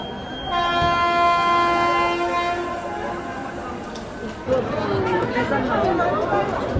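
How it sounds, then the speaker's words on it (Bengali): A train pulls out of Prayagraj railway station through a dense crowd, its loud horn holding a long steady tone for several seconds before giving way to rumbling wheels and constant crowd chatter. "প্রচুর ভিড় আছে আর ট্রেনও ছেড়ে দিল।"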